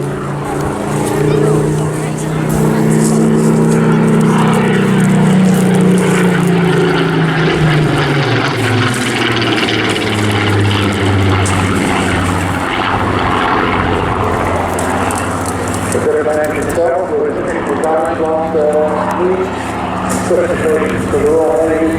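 A Spitfire with a Rolls-Royce engine flies at an airshow, its propeller drone swelling and sliding in pitch as it passes overhead, loud and sustained, with a crowd and background chatter beneath.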